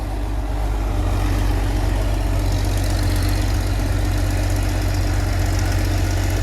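An old Caterpillar D-8 dozer engine runs steadily on a cold morning, a loud, continuous low diesel rumble with a rough knocking idle throughout.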